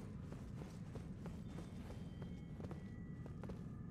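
Horse hooves clop rhythmically in a fantasy video game, a steady patter of soft hoofbeats mixed with background game sounds and faint tones, no talking.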